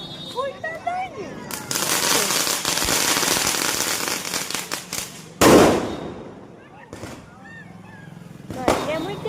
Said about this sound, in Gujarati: ફોડો ફટાકડો